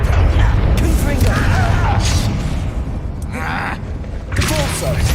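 Confringo fire-spell explosions in Hogwarts Legacy, several crackling bursts spread across a few seconds over a steady rumbling battle din, with a voice shouting spell names in between.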